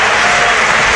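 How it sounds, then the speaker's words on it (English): Loud, dense crowd applause fills Anfield stadium as Liverpool return for the second half against Manchester City, a brief roaring wash of clapping. "and then you get the applause"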